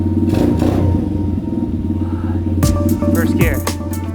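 A Hawk 125 pit bike's engine idles steadily with a low, rough thrum, with louder clattery bursts near the end, while someone talks over it.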